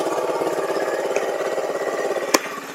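A cheap off-road buggy engine with a CVT runs at light throttle, a close, steady, rapidly pulsing putter with a single sharp knock partway through.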